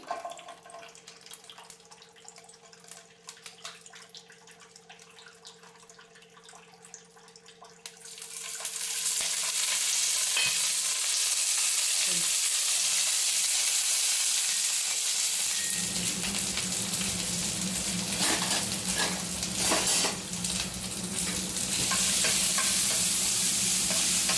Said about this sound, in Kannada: ಫ್ರೈ ಪ್ಯಾನನ್ನು ಇಟ್ಟು ಕಾಯಕ್ಕಿಟ್ಟಿದ್ದೀನಿ ಅದಕ್ಕೆ ಹಾಕಿ ಸ್ವಲ್ಪ ಫ್ರೈ ಮಾಡ್ಕೊಂಡ್ಮೇಲೆ ನಾನು ಟೊಮೊಟೊ ಹಣ್ಣನ್ನು ಫ್ರೈ ಆಗೋಕ್ಕೆ ಇಡ್ತೀನಿ